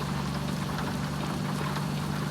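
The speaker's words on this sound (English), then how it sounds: "You can see the rain streaking through the open window. Let's get down here, and that rain sounds really good." Rain in American Truck Simulator drums steadily through an open truck window, a dense, loud wash of hiss over a low engine drone, unbroken throughout.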